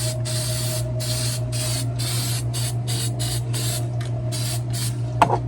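Homemade gas tank bolts are spray painted in a garage, the can hissing in a series of short, rhythmic bursts over a steady low hum, ending with a brief clack.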